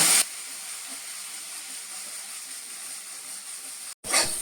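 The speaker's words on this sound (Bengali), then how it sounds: "মশলাটা আরেকটু কষিয়ে নেব।" Spice paste for hilsa fish curry sizzles steadily in a hot pan, a continuous hiss with no talk, then cuts off briefly near the end before a louder burst of frying returns.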